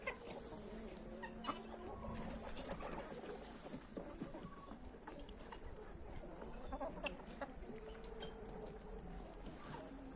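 Several chickens cluck and chatter close by in a continuous, busy flock, with scattered sharper calls rising over the steady murmur.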